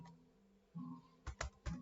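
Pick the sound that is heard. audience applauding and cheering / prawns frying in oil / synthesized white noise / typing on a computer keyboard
typing on a computer keyboard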